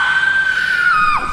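A woman screams loudly and shrilly in one sustained, piercing cry that drops in pitch at the end, close and on its own, during a tense domestic drama scene.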